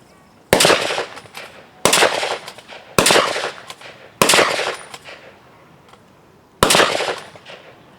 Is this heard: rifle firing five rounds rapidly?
yes